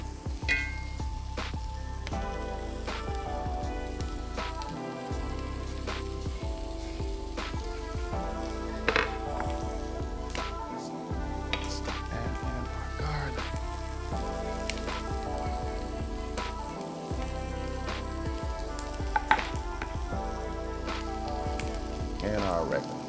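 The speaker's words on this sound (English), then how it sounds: "We're gonna saute these onions." Onions sautéing in butter in a pan give a steady bright sizzle and crackle throughout, with occasional pops and clinks from utensils, close to the pan.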